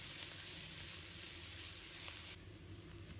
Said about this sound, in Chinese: 接下来起锅倒入食用油，油热之后，把葱、姜、蒜放入锅中，